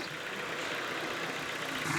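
A Ford Focus engine idles with Lucas oil stabiliser added, giving a faint, steady, even running noise with no changes in pace and no talking.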